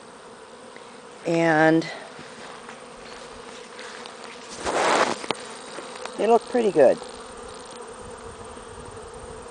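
Honeybees from hives kept in a bee shed on a hot, busy day buzz steadily at low level, with a few louder passes as bees fly close to the microphone; a person speaks briefly.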